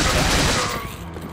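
Pistol fire in Resident Evil 4, a loud dense crack and burst of shots up front, then quickly decaying into quieter rattling tail and ambience.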